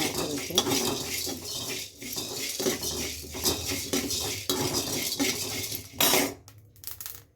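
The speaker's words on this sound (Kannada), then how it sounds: "ಈ ಥರ ಸ್ಮೆಲ್ ಈ ಥರ ಪಟ ಪಟ ಪಟ ಅನ್ಬೇಕು" A spoonful of coriander seeds dry-roasting in a pan gives off light crackles and pops amid scraping and clinking of a spoon being stirred against the metal, with a short louder scrape near the end.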